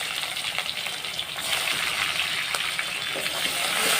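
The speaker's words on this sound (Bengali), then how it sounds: "দিয়ে রসুনটাকে ভালো করে ভেজে নেব।" Garlic paste with capsicum frying in a pan for mutton curry, a close, continuous hiss and sizzle that swells slightly louder toward the end.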